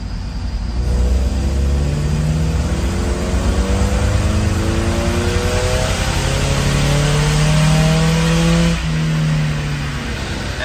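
A Porsche engine runs loud and close on a dyno, revving up and down in repeated sweeping pulls with a steady throaty drone between them.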